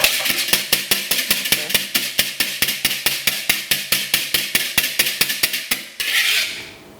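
Egg whites are whisked by hand in a bowl, with a fast, regular run of sharp metallic clicks and taps, close and loud, then a short swishing scrape as the whisking stops.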